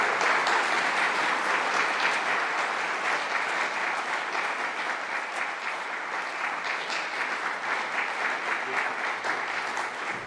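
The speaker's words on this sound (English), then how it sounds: "please give him and his team a big round of applause" A conference audience at an AUSA military sales event claps in a sustained, even round of applause, a dense crackle of many hands holding steady for about ten seconds with no talking over it.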